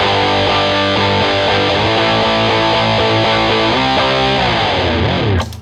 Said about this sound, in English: The patch C, the overdrive distortion, sounds like this.